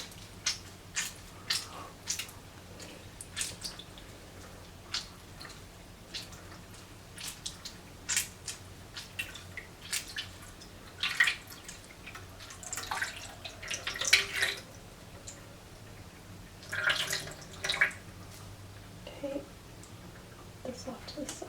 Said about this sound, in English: So again, trying to squeeze out the water.